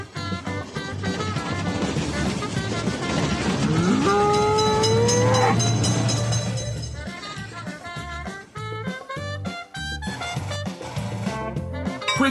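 A train in an Android railroad crossing simulator game rumbles close by, its whistle sounding a long rising blast midway, followed by a rhythmic clatter of wheels over rail joints.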